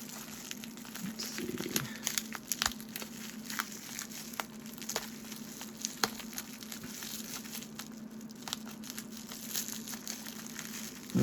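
Bubble wrap is peeled and unwrapped from a Hot Wheels mail package, giving scattered crinkling and sharp plastic crackles close by. Tape holds it in place, and a low steady hum runs underneath.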